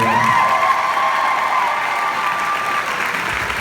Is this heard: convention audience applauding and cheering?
yes